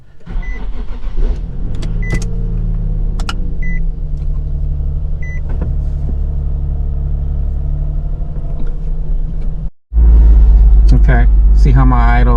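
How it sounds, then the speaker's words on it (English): Nissan 370Z engine, fitted with throttle body spacers and new intake tubes, idles abnormally high with a steady close rumble. A brief cutout follows, then a louder burst of engine noise, with someone talking over it. "see how my idle's all jacked up, super high"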